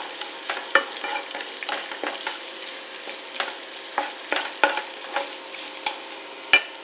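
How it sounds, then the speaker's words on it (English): Onion frying in a pan for tomato chutney crackles with a bright, steady sizzle, punctuated by regular clicks and scrapes from a spoon stirring it, close and fairly loud. "Now let's add the onion. Mix well and fry it till the onion turns a little golden brown."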